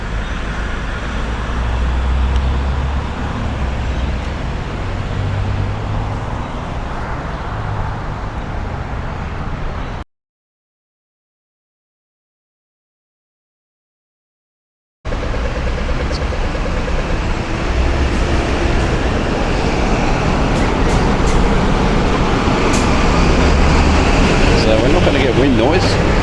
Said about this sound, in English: Wind noise, we're getting traffic noise.